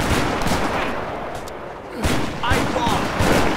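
Stationary cannon blasts in Age of Empires 3 during a base defense, a few booming shots around two to three seconds in, mixed with battle noise and a voice speaking briefly.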